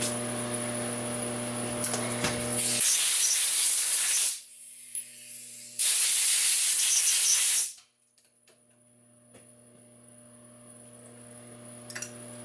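WD-40 lubricant sprays in two loud, close hissing bursts of a few seconds each while scope rings for a Browning A-Bolt 3 are machined in a shop, with a machine hum before and faint workshop noise after.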